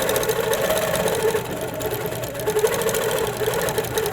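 An HQ Avanté longarm quilting machine stitches micro-quilting circles, a fast steady mechanical whir and rapid needle chatter running continuously, close and loud, with slight shifts in pace.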